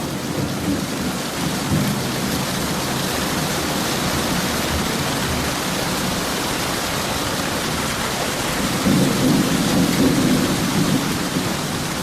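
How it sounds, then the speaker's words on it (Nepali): Heavy rain pours down in a thunderstorm over Sikkim's Teesta region, a loud, unbroken hiss of rainfall with low rolling rumbles of thunder swelling near the start and again toward the end. "पानी नौ धुर्को पर्न थाल्यो"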